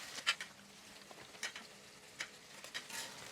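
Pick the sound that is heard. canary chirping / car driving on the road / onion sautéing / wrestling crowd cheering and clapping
onion sautéing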